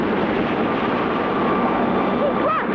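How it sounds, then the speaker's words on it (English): A black jet plane from a 1959 color cartoon roars past in a steady, loud engine drone. The pitch rises into a whine at the end, with no talk over it. "There goes the black jet again!"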